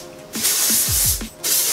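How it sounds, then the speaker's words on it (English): A dry shampoo aerosol can sprays onto a wig in two long hissing bursts, close and loud, with brief clicks of the nozzle between them. "spray the entire wig"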